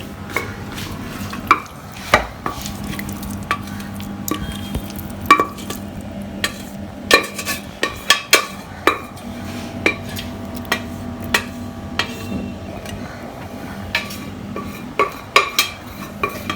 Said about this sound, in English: I'm going to add the pork now.